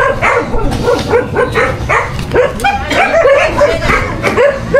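A dog barks and yips continuously at close range, loud and agitated, with whimpering cries mixed into the rapid barks.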